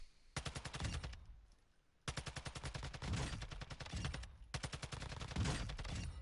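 Sustained automatic gunfire in the DMZ video game, with three long rapid bursts of evenly spaced shots separated by brief pauses, loud and close.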